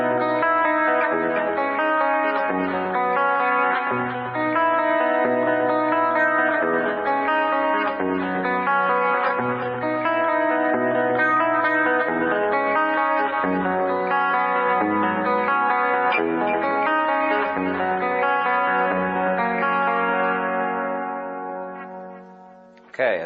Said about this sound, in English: So here's the entire intro rhythm.